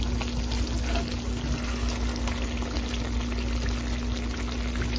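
Prepared dried fish (shutki) sira is poured into a cooking pot, a steady close gush of liquid over a constant low electrical hum, continuous and unbroken.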